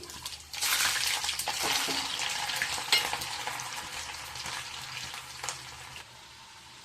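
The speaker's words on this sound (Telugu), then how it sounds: "ప్యాను బాగా హీట్ అయ్యాక ఇందులో ఆవాలు కొంచెం మెంతులు మనం ఆల్రెడీ ఉడిచిపెట్టుకున్న కొన్ని తెల్లగడ్డలు అండి" Mustard seeds, fenugreek and boiled garlic frying in a hot pan give a steady, close sizzle with scattered pops and crackles, rising at the start and easing toward the end, with no one speaking.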